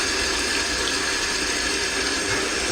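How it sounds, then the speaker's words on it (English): A loud waterfall pours in a steady, unbroken roar of rushing water that fills the whole clip with no pauses or other sounds. "the waterfall's so loud"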